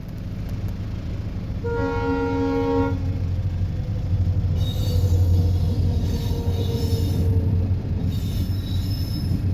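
A train rolls through a railway crossing while road traffic waits, a steady loud rumble filling the clip with a brief tonal horn blast near the start and squealing wheel noise in the upper range.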